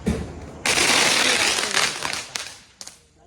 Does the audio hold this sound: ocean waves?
no